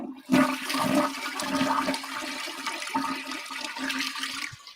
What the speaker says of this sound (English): Let's flush the author of that Christian work paper.